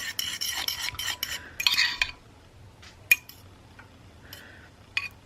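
A spoon stirs keto chia seed pudding in a bowl, giving a busy run of close scraping clinks for about two seconds, then a quieter pause with a few isolated taps and clicks.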